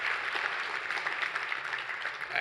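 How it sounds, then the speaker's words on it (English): A crowd at the 2021 Pittsburgh Tech 50 Awards applauds the Tech Council, producing a steady, dense wash of clapping that holds at an even level throughout. "maybe a round of applause again for the Tech Council"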